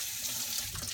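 Warm water runs steadily from a tap during home winemaking equipment cleaning, a continuous close hiss and splash with no voices.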